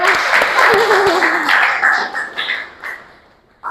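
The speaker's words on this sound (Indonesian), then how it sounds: "Ayo tepuk tangan untuk Risma." A classroom of students claps for a classmate named Risma, scattered and uneven, with a voice speaking early on before the clapping thins and fades toward the end.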